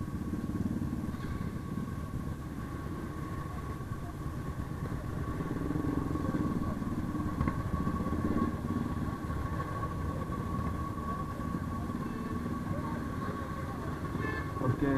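A biker club's group of motorcycles riding through Mumbai on an Independence Day ride, a steady, continuous engine drone with passing traffic rumble close by, and faint voices now and then.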